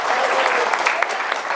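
A short burst of audience clapping at an in-person meetup of a community group of borrowers, brief and fairly loud, with a voice faintly mixed in.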